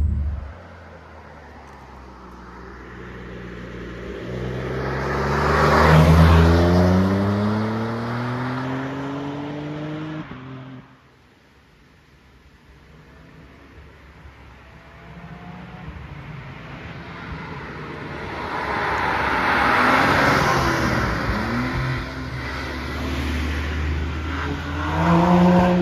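A car engine revs and accelerates loudly, with rising harmonic sweeps building to a peak, dropping away, then climbing again in a second acceleration run; no talk is heard.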